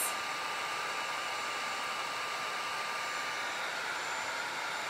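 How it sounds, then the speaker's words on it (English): A heat gun rated to 1500 degrees, used for wood burning, blows hot air in a loud, steady roar that switches on abruptly and holds constant throughout. "This is a heat gun that gets up to 1500 degrees."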